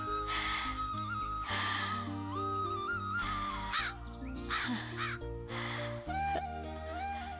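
Crows caw loudly in repeated harsh calls over a steady musical score in a Tamil TV drama, the calls coming in irregular bursts throughout.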